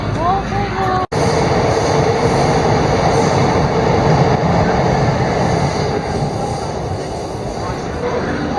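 A train rumbles loudly overhead on elevated tracks above the Ameyoko shopping street in Ueno, Tokyo, with a continuous roaring, rattling drone, steady throughout, with some voices faintly underneath.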